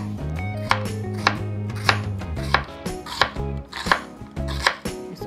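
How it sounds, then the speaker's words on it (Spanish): An onion being chopped finely with a knife on a cutting board, for a green taco salsa. Steady, close knife strikes land about every half second, with a tonal ringing underneath. "Ahora lo que voy a hacer es picar mi cebollita"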